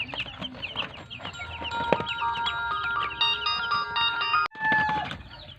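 Sasso chickens cluck on a farm, a busy overlapping chorus of short calls that runs steadily throughout, close and moderately loud, with no one talking.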